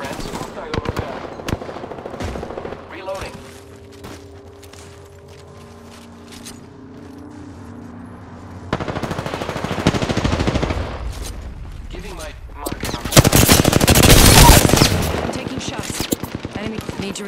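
Enemy gunfire in Apex Legends Arenas: bursts of automatic fire and single sharp shots mixed with mechanical clanks and clatter, swelling to a dense, loud volley near the end, with a voice speaking at times.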